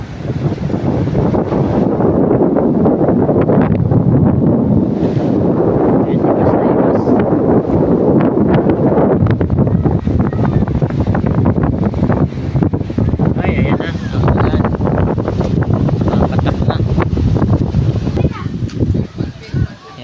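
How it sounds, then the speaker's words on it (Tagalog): Strong wind at a beach buffets the microphone with a constant roar, joined by the rumble of surf and water, with light drizzle. "Lakas ng hangin."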